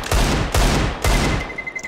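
Three loud bursts of automatic gunfire in a Counter-Strike match on ESEA, evenly spaced about half a second apart and close, followed by a thin ringing tone and quieter noise.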